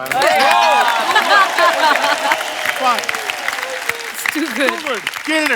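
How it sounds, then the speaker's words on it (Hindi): Steady loud applause from a crowd fills the whole stretch, with some cheering and voices mixed in over the clapping. "यार एक बार ही ताली बजा दो इसके लिए यार।"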